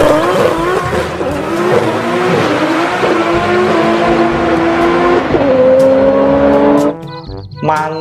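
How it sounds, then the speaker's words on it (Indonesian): A toy race car's recorded sound effect: loud revving engine tones that climb and shift with gear changes, then a short burst of tire squeal near the end, with no talking. "Yang ini ada mobil balap."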